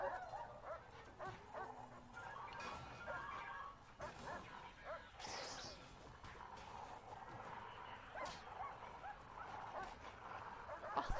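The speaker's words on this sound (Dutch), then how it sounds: "Kom hier dan, hond." Repeated barking and yipping from a dog in the prison-management game Prison Architect, moderately loud bursts scattered over about ten seconds, with occasional talking from a player over the game sound.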